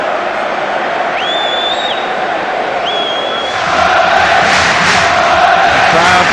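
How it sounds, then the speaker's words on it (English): A large football crowd at a 2006/2007 Reading v Manchester City match roars continuously, with whistles rising above the sustained noise and the cheering swelling louder near the end. "The crowd cheer him on that final furlong."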